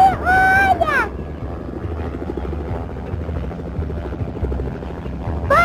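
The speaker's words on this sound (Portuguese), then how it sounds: "Cuidado, não cheguem perto até a hélice parar de girar." Helicopter rotor still spinning after landing, a loud steady whirring drone with rhythmic beating that persists under brief voices at the start and end.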